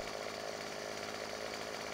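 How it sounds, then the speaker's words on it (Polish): A chainsaw cuts a tree in the Farming Simulator 17 video game, a steady, buzzing engine drone held at an even level throughout, fairly quiet and with no talking. "Wyciągam piłę."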